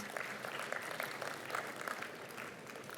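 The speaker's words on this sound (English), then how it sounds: "Give yourself a round of applause." Applause from an audience at a sustainability talk, steady dense clapping throughout, moderately faint and somewhat distant, with no voices standing out.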